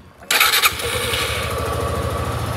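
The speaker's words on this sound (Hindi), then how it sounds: "तो ये हो चुकी है बाइक स्टार्ट" A Suzuki Gixxer SF150 motorcycle engine cranks and catches abruptly, then settles into a steady, throbbing idle close by, with no talking.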